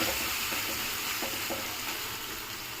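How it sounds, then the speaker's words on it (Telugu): Grated raw mango fries in a pan with a continuous soft sizzle and occasional light stirring scrapes, close and steady, with no talking. "పచ్చి మామిడికాయ తురుము కొంచెం వేగనిద్దాము"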